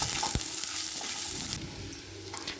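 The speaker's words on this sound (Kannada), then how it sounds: "ಎಣ್ಣೆ ಬಿಸಿ ಆದ ನಂತರ ಬೆಳ್ಳುಳ್ಳಿನ ಸೇರಿಸ್ಕೋತಾ ಇದ್ದೀನಿ. ಚಚ್ಕೊಂಡಿದ್ದ ಶುಂಠಿ, ಇದನ್ನು ಚೆನ್ನಾಗಿ ಫ್ರೈ ಮಾಡ್ಕೋಬೇಕಾಗತ್ತೆ" Garlic and crushed ginger fry in hot oil for a Karwar-style hilsa fish curry, giving a loud, constant bright sizzle with a few light clinks of stirring, close up and with no one talking.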